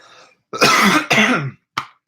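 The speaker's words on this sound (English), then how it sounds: "I'm starting to cough." Two harsh, close coughs in quick succession, followed by a short third cough after a pause.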